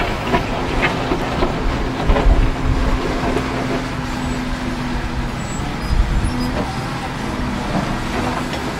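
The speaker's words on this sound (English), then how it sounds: "line up the front end loader to straddle the material that was left behind" Continuous heavy diesel drone and clanking from a wheel mounted front end loader pushing leftover material into a pile with its bucket, with rumbling thumps and a steady engine hum throughout.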